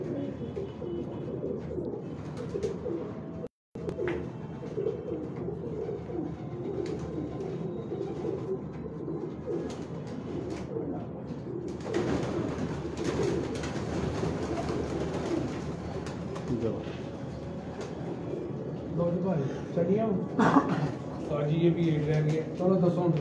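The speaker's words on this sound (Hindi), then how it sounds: "ये मानी भाई के बहुत पुराने कबूतर हैं जी" Pigeons coo in a steady, continuous chorus in an old rooftop pigeon loft, under someone talking throughout, with louder bursts of activity later on.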